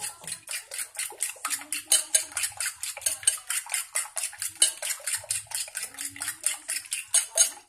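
Metal spatula or spoon scraping and clinking steadily against a pan while stirring sautéed bitter gourd, a fast regular rhythm of close, bright clatter with no talking.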